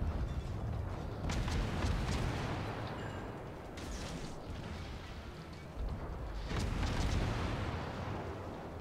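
Naval guns on the Tachibana warship fire in a naval combat game, heavy booming salvos with rumbling echoes, loud and close, in bursts around the start and again later over continuous low battle noise.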